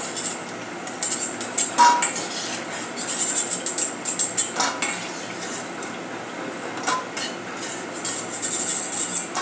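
Crispy puris are lifted out of hot frying oil with a metal utensil, giving repeated close clinks and scrapes over a steady bubbling hiss, without talk.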